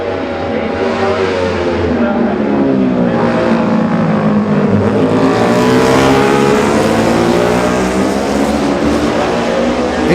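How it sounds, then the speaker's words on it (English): A Honda racing motorcycle in the 2018 Classic TT junior race screams past at full throttle, loud and close, its engine note rising and then falling away over about ten seconds. "Distinctive sounding sound there of another Honda"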